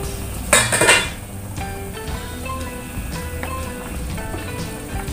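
Metal lid lifted off a pot of simmering beef and mustard-greens soup with carrots, a bright clattering clink up close followed by gentle bubbling and small metallic taps.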